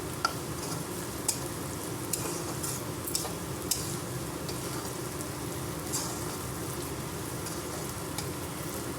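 Chili powder and salt are stirred into oil in a frying pan while cooking aloo fry, making a steady close sizzle with light scraping and occasional sharp clicks from the spoon and no talking.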